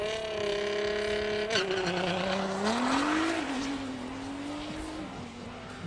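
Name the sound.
drag racing car making a run at Midvaal Raceway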